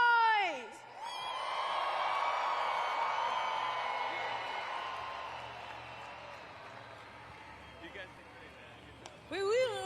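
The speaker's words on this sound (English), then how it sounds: "I need you to get this crowd as loud as they can be" A Monster Jam arena crowd in Sacramento cheers and whoops in a sustained swell that builds and then fades, with an announcer's voice heard at the start and end.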